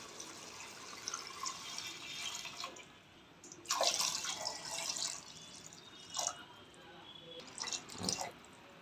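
Water poured into a pressure cooker of seeraga samba rice gives faint trickling and splashing, steady at first, then louder bursts of pouring and a few separate splashes toward the end.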